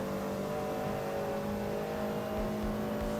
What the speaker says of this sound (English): this is the BMW M4 GT3 then